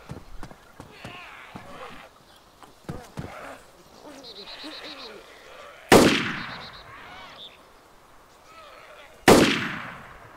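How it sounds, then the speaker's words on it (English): Two sharp, loud gunshots several seconds apart ring out in a video game as a player shoots a zombie, each with a short echoing tail, amid footsteps, clopping and scattered voices. "I just shot the zombie."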